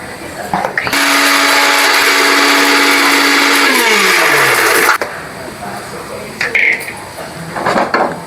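A mixer grinder grinds turmeric and fenugreek into a fine paste for a traditional Karnataka rice dish. It runs as a loud, steady whir for about four seconds, then cuts off, leaving a few clinks and a brief clatter.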